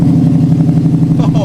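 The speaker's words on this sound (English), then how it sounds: "start the car without an exhaust" A car engine runs straight-piped with no exhaust fitted, a loud, close, low pulsing drone that stays steady through a short burst.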